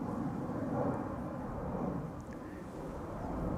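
KLM Airbus A321neo jet spooling up for departure at Amsterdam Schiphol, a steady broad roar with wind rumble, heard from a distance and holding constant throughout.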